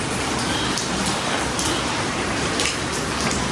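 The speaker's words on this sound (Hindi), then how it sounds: "आज तो भाई सुबह से बारिश लगी हुई है" Steady, heavy rain falling on a cool morning in Pakistan, a dense, even hiss of drops hitting surfaces close by, loud and unbroken throughout with no voices.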